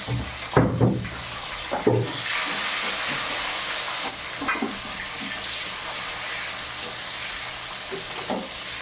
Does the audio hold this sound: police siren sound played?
no